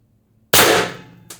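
A single sharp, loud pop from a Pistelle X-68 HPA airsoft carbine with a 14-inch barrel and drum magazine at 1100 psi, fired close by, with a quick decaying crack and a fainter second impact just after.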